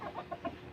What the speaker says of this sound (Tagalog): pumasok na yung mga manok